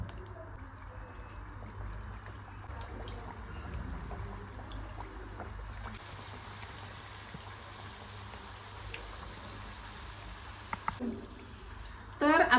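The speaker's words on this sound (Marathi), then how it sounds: "तर आपलं तेल गरम झालेलं आहे आणि आता आपण घाऱ्या तळून घेऊया।" Flattened pumpkin gharge sizzle in hot oil, a soft continuous bubbling crackle heard close, with someone talking over it and a brief louder clatter at the very end.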